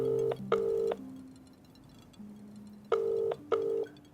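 A phone rings in two double bursts of electronic trilling tones, separated by a quiet gap with a low hum underneath.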